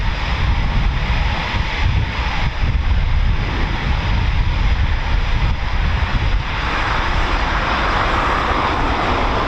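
Eurofighter Typhoon FGR4 jets taxiing out for departure at RAF Coningsby, a steady, loud broadband jet engine roar with wind-like hiss that holds throughout without pause.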